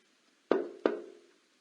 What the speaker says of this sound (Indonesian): Bukannya ini suara orang mengetuk pintu?